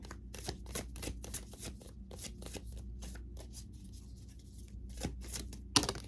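Oracle cards are shuffled by hand, a rapid run of crisp papery riffles and flicks in quick bursts, close and fairly quiet, with a brief sharp tap near the end and no talking.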